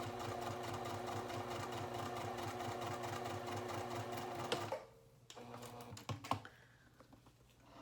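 Sewing machine back stitching a coin purse and card holder pattern: a steady, fast, close mechanical chatter of the needle runs for about five seconds, then stops, leaving quiet handling noises and a few soft clicks.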